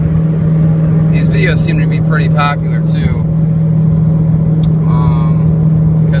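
Constant low droning hum from a failing rear wheel bearing on a 2007 Subaru Impreza, heard from inside the moving car over road noise, with someone talking over it.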